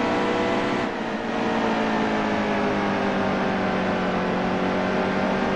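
Race car engine in the NASCAR Heat 2 video game, a steady sustained drone holding a constant tone throughout, loud and continuous with no talk over it.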